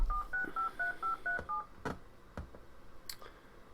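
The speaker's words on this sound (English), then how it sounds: "Click on Connect, and it'll start dialing." WebTV dial-up modem dialing a connection: a quick run of crisp paired-tone touch-tone beeps, followed by a few sharp clicks and a brief high chirp, fairly close and clear with no talking.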